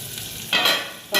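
Freshly tempered spices hit a vegetable curry in hot oil with two sharp, close sizzling bursts separated by a short pause. No voices are heard.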